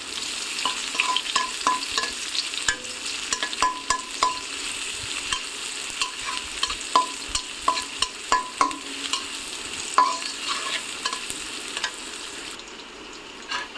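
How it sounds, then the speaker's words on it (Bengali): Chopped onion frying in a pan for a hilsa fish and ash gourd dish, stirred with a spatula: a continuous sizzle under a run of close, rhythmic scraping strokes, fading near the end. "পেঁয়াজ কুচি দিয়ে এটাকে একটু নেড়ে চেড়ে নেব।"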